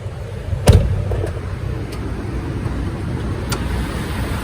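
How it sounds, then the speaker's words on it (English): A single loud clunk comes as the hood of a 2011 Ford F150 XLT 5.0L V8 pickup is popped. A few faint clicks follow over a steady outdoor hiss. "let's pop the hood real quick"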